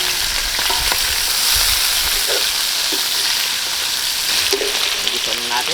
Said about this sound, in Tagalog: Ibubuhos na natin yung ating pinalambot na ribs